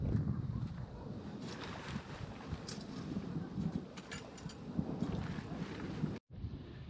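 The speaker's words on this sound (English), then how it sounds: "Wind's blowing too hard." Strong wind gusts roar steadily across a microphone outdoors at Texas Motor Speedway, a continuous low buffeting rumble with no talk, cutting out briefly near the end.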